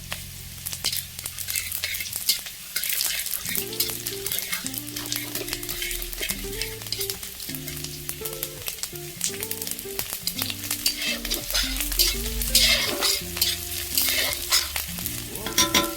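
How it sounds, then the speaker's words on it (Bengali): Panch phoron spices fry with onions in a pan for a village-style chorchori, a bright continuous sizzle with stirring scrapes beneath a melodic background music track. "পেঁয়াজটাকে সাইডে করে আমি 1 চামচ 5 ফোড়ন দেব।"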